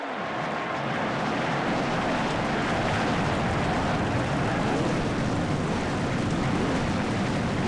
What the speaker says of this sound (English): Drivers, start the engine!